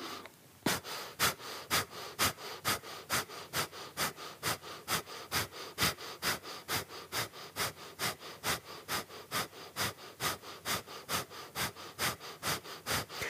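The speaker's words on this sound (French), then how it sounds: "Allez, continuez encore Kapalabhati." Rapid forceful Kapalabhati yogic breathing, a steady train of sharp nasal exhalations at about two per second, close and loud, continuing evenly throughout with no talking.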